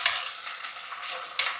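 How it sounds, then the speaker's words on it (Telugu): Curry leaves hit hot oil in a pan for an egg curry and crackle as they are stirred, a loud steady sizzle close by with a sharp burst near the end. "కరివేపాకు కూడా వేసేస్తుంది."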